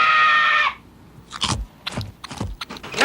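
A loud scream is cut off, then a chocolate-coated, peanut-butter-filled Butterfinger candy bar is bitten into with several close, sharp crunches that continue as chewing.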